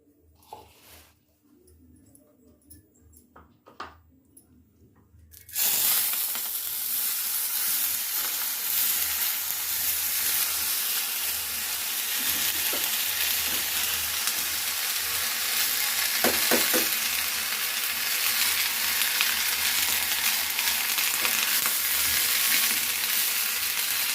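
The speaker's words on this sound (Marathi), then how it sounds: "याच तेलामध्ये आपण उरडा भाजून घेणार आहोत" Tender jowar grains (hurda) hit hot oil with a sudden loud sizzle after a few quiet seconds of light clinks. The frying hiss then runs steadily close up, with occasional stirring scrapes and no speech.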